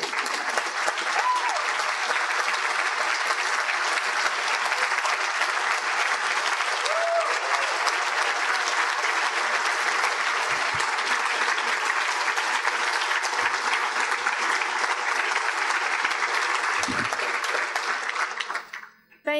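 Audience at a panel event on police brutality applauding loudly and steadily for nearly twenty seconds, with occasional cheers, before the clapping fades out.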